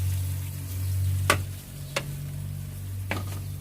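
Corn kernels stir-fry in a pan, a steady close sizzle with three distinct clicks of a utensil against the pan at irregular intervals.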